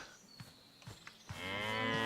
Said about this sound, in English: These are the moo-moos that give us milk.